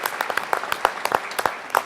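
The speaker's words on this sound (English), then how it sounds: "Give them another round of applause" Brief burst of audience applause at a lecture, a dense patter of many hands clapping at moderate distance for under two seconds.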